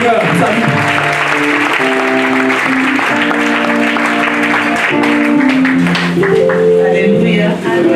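Church congregation applauding and cheering: dense, sustained clapping and crowd noise blended with sung or sustained musical tones, with voices throughout.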